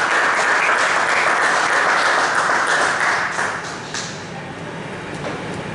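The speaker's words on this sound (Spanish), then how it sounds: "Vamos a dar un fuerte aplauso." A church congregation gives a strong round of applause, loud, dense clapping that carries for several seconds before easing off toward the end.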